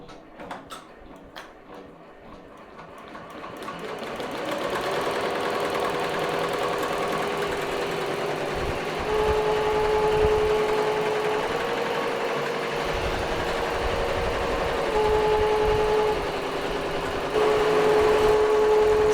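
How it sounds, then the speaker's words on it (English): Embroidery machine stitching a 3D puff design through foam on a T-shirt, a steady close mechanical whir with fast ticking needle strokes and a faint tonal hum, running continuously without speech. "let her stitch out, and then I will be back once she is done"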